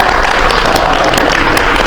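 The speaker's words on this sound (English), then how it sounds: "Applause!" Dense, steady audience applause at a European Parliament event in June 2024, a continuous wash of many hands clapping at close range with no pauses.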